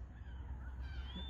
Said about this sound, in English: here we have some seagulls checking out what is on the menu